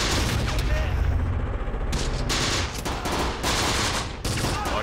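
Gunfire dense with rattling bursts and booms hits a building in the Close Combat video game, a desert battle with tanks, loud and continuous, while a voice is faintly heard beneath it.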